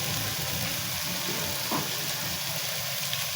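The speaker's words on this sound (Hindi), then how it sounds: "फिर इसमें अपने आलू भी डाल के इनको भी अच्छी तरह से भून लेंगे।" Potatoes and moong dal fritters (mungray) fry together in a pan with spices, giving a steady, close hiss of sizzling oil that runs unbroken under no talk, with one faint scrape partway through.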